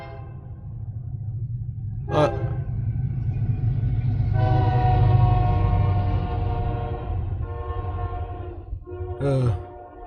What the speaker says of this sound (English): It's a freight train going by